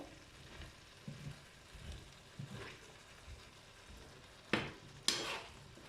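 A spoon stirs a vegetable curry in a pan, giving soft, faint scraping and mixing sounds in an uneven rhythm over a low background sizzle, ending with two sharper clatters against the pan.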